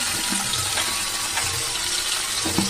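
Water pours and swirls over tamarind in a kitchen as it is dissolved for a garlic kolambu, a continuous close splashing trickle with faint clinks beneath.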